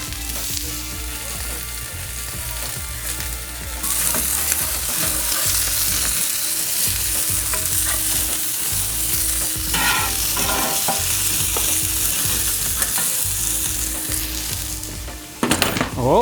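Grass-fed Irish beef steak sizzles steadily on a lower grill grate, a loud continuous hiss with a low rumbling hum beneath, and a few sharp crackles and pops near the end.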